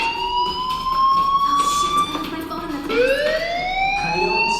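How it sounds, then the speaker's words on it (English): A wailing fire alarm in the video game Life is Strange, rising and falling in repeated sweeps, loud and continuous against faint background game ambience. "do you hear that fire alarm?"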